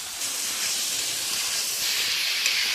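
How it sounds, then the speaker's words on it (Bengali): Meat browning in a pan gives a steady, loud sizzling hiss that continues without a break from start to finish, close by, with no voices over it. "দাঁড়া ভালো করে বাদামি বাদামি করে ভাজবে দাঁড়া মাংসটা তুলে নেবো"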